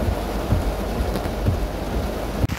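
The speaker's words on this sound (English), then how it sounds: "It started to rain." Rain falling at night, a steady dense hiss with faint low rumbles underneath, constant and fairly loud with a brief knock near the end.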